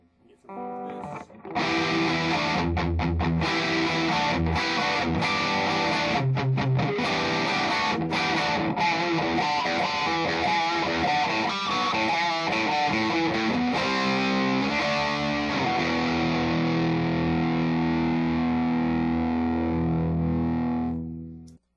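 An electric guitar plays through a JCM-SE amp with the gain turned up about halfway, giving a loud, distorted, crunchy tone of riffs and sustained chords that ring out and fade at the end.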